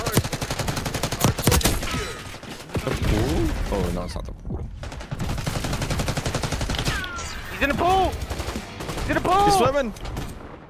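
Gunfire in the Black Ops 6 shooter game, dense crackling bursts and volleys layered with other game effects, loud throughout, with a voice talking in places.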